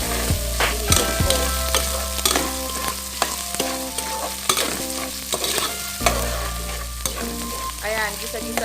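Garlic, onion and ginger sauté in a hot pan for a Filipino malunggay dish, a steady sizzle broken by the clatter and scrape of stirring at irregular intervals, close by and with no talking.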